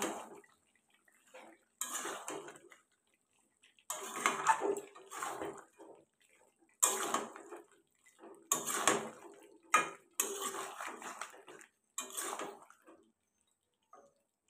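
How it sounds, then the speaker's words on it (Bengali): Meat stir-fried with meat masala in a pan, heard as intermittent bursts of metal spatula scraping and clanking against the pot, separated by quiet gaps, close by with no talking. "তো মিট মশলাটা দিয়ে আবার আমাকে একটু ভালো করে কষাতে হবে"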